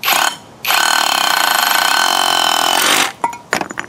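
An Avhrit cordless hammer drill used as a chisel gives a loud, steady rattling hammer lasting several seconds, with a brief burst just before and short bursts after it stops.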